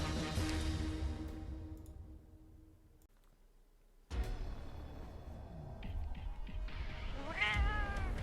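A narrator's voice imitates a cat's meow, a short rising-and-falling mew near the end, rising out of dense background noise and music after a brief quiet gap.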